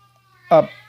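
A single short meow from a cat in an anime scene, loud and close, rising out of near silence with a faint steady hum beneath.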